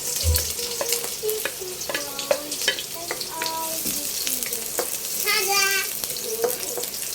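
Chopped garlic and onion hit a hot oiled pan after tofu has been fried, sizzling steadily up close with a few stirring scrapes and some brief tonal squeaks in the background; nobody speaks.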